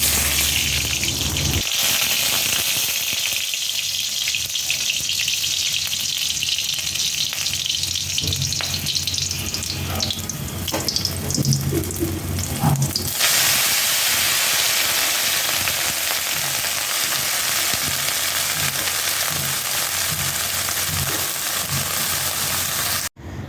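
Pabda fish fries in mustard oil with a loud, dense crackling sizzle that runs continuously, sharpening into brighter popping spatter partway through before settling back into a steady hiss.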